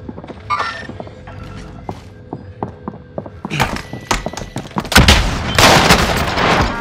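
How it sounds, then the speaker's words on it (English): Gunfire and thudding impacts in Call of Duty Warzone, with scattered shots building into dense, loud bursts near the end. "Receiving hostile fire."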